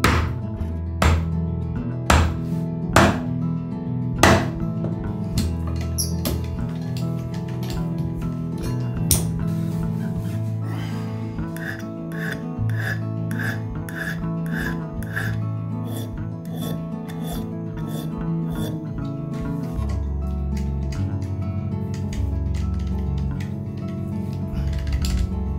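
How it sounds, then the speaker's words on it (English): A 30mm drill bores into a thick Japanese cypress board, giving sustained rasping, grinding wood noise with repeated sharp knocks and taps as the bit bites and clears, loud and close throughout. "The drill that I'm using now is 30mm."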